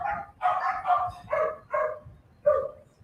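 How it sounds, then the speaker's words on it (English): Several dogs bark in a loose series of about six sharp, moderately distant barks with short gaps between them, heard alone without talk. "Oh, can you hear the dogs?"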